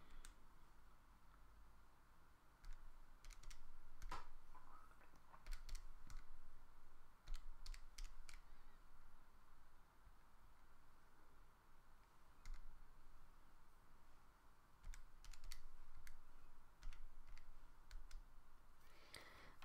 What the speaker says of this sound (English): Type all that in.